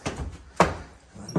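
A side door in a renovated Detroit house opens with a few close, dull thunks and a sharp knock in the middle, heard alone in a quiet interior.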